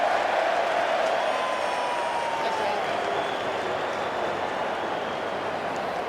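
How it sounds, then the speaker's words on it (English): A stadium crowd at an Australian football tribute match roars and yells during a fight in the stands, a sustained loud wash of massed voices with commentary running over it. "there's a fight in the crowd, Hutto. That's what all the yelling's about"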